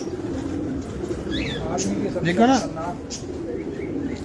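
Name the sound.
pigeons cooing in a Baloch pigeon loft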